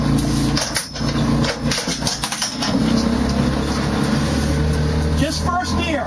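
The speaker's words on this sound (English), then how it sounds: "We're going to try to just to push it with the quad. Just kiss it with the back bumper." A quad ATV engine idles and rumbles steadily nearby while nudging a vehicle with its back bumper, with people talking over the low, continuous drone.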